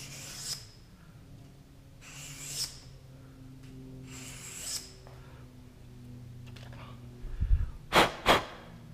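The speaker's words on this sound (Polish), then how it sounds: "To jest papier ścierny. Gradacja 320." Sandpaper of 320 grit rubbed across the lock gap of a compressor pump piston ring, giving a few slow, soft rasping strokes, then a cluster of sharp clicks and knocks close by at the end.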